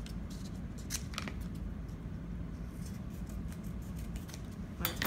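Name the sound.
trimming material with scissors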